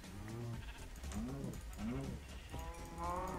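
A cow in the Minecraft video game moos in a series of low, drawn-out calls, about four in a row, fairly loud and steady with no one talking over them.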